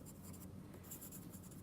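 A pencil scratches out a name on paper in a classroom, a steady close run of small scribbling strokes with short pauses between letters.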